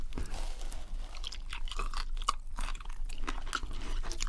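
Close-up crunching and chewing of crispy KFC fried chicken from a KFC feast, with dense irregular bites and crackles that continue steadily and loudly throughout, no talking.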